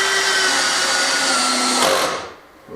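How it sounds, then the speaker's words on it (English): Power drill driving screws into wood while restoring a farmhouse kitchen table and chairs, a loud steady whine for about two seconds that stops abruptly, heard close and with no talking. "there's not enough torque on my drill"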